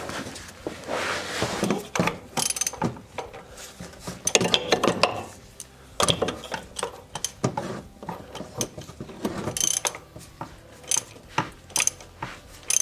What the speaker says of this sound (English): Where's my ratchet? Is it still on the Greek pulley?